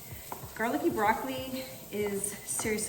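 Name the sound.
garlicky broccoli sizzling in olive oil in a pan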